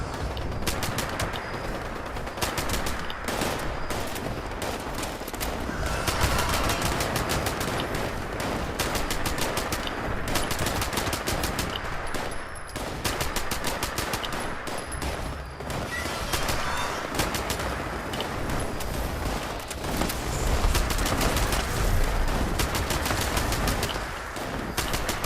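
Rapid bursts of automatic gunfire in the video game Fallout 76, in the Whitespring area, loud and continuous with dense clusters of shots and brief gaps, with no talk over it.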